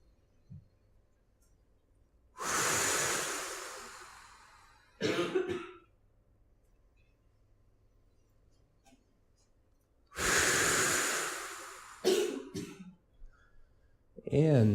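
Slow, deliberate breaths in and out during a calming breathing exercise, two long airy breaths about eight seconds apart, each followed by shorter breathy sounds, close and alone with no talk.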